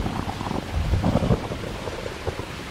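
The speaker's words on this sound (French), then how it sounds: "Le vent se met à siffler dans les arbres." Stormy wind gusting through trees, a steady roaring whoosh with a swell near the middle and distant low rumbling underneath, no voices.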